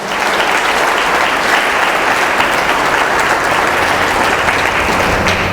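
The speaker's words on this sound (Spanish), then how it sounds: "Dale un aplauso al Señor." A congregation at a Sunday church service applauds loudly and continuously, a dense, even wash of many hands clapping throughout.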